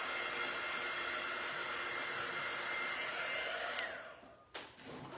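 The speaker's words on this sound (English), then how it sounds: "let me just blow dry this" A hair dryer blows steadily and loudly up close while drying paint on a painted tiered tray, a constant whooshing roar that winds down and stops, followed by a brief clunk and faint handling.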